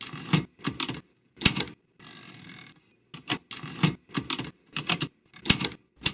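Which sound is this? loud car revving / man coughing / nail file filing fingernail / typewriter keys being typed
typewriter keys being typed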